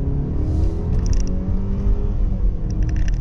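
A 2020 Mercedes-Benz GLE350 in comfort mode pulls away with a steady, close engine drone and road rumble that build under acceleration, with faint clicks and creaks from the cabin over the full stretch.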